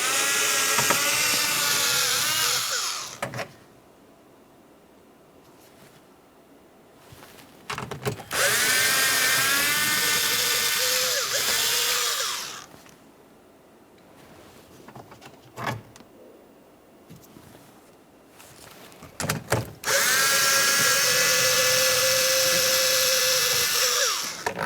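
A power tool backs out 10mm mounting bolts from a Jeep Patriot front door panel in three loud, whining bursts of a few seconds each, separated by quieter gaps with faint handling noise.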